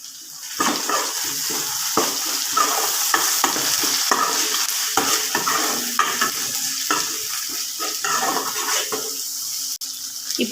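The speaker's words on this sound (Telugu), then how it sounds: "ఇప్పుడైతే ఉల్లిపాయలు బాగా వేగిపోతున్నాయి." Onions with ginger garlic paste fry in a pan for egg curry and are stirred, giving a steady sizzle broken by repeated scraping strokes of the spoon, close up, with no voices.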